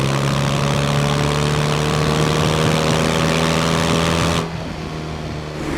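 A BMW R12 2024 with an 1800 cc engine rumbles loud and steady at close range, a continuous low drone for several seconds that suddenly drops away to a quieter hum near the end.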